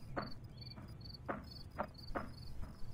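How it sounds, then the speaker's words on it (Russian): Crickets chirp in short, evenly spaced bursts in the survival zombie game Project Zomboid, faint and repeating about twice a second over quiet night ambience, with soft thuds mixed in. "какие-то сверчки запели."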